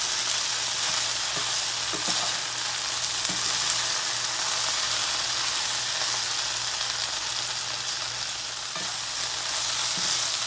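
Food sizzling and browning in a pan for a Southern Sunday supper, a continuous soft frying hiss with occasional scrapes and taps of stirring.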